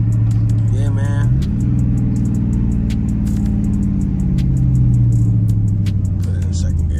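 A Dodge Charger SRT engine rumbles loudly and steadily as it pulls in second gear, its pitch climbing and shifting early on, with someone talking over the drone throughout.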